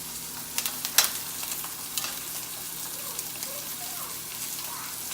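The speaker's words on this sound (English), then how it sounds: "As the steak starts to cook before you even turn it" Steak sears in a pan with fresh thyme and garlic, giving a soft steady sizzle with scattered light crackles and a few tapping clicks near the start, all fairly quiet.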